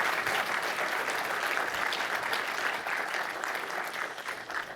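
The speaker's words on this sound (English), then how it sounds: "You don't get to leave without applauding" Audience applauding at a developer conference session on C#, a dense, steady wash of many hands clapping that stays loud throughout and eases slightly near the end, with no voices.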